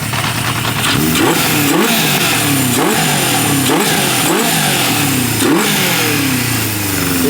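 A 1978 Honda CB550K four-cylinder motorcycle engine, its carburetors out of sync, revs up repeatedly in loud rising-and-falling blips about once a second, close by and with no talk over it.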